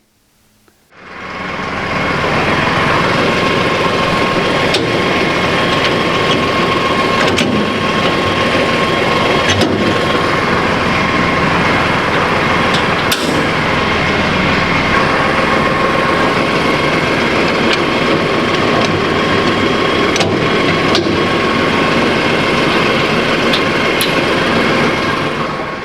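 A tractor engine starts up and then runs steadily and loudly up close while its lower links are raised to hook up a mowing implement, a constant mechanical drone with faint clicks and clanks over it.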